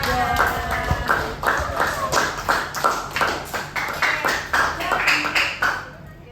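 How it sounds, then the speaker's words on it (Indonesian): Students in a classroom clap hands in a rhythmic, patterned group clap of steady repeated bursts, close and fairly loud, stopping at the end. "Tepuk tangan."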